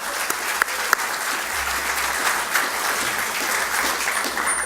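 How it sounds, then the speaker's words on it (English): An audience at a university lecture claps in a warm, steady round of applause, with a few sharper individual claps standing out near the start. "Let's applaud her."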